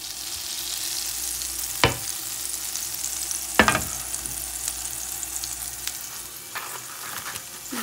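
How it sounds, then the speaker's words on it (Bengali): Butter sizzles in a frying pan at moderate level, with a couple of sharp utensil scrapes and knocks over the steady frying hiss, with no voices. "এখন এই প্যানে বাটার দিয়ে দেবো প্যানে।"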